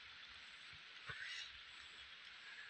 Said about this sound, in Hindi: बारिश की आवाज़ आपको स्पष्ट रूप से सुनाई देगी यहाँ पे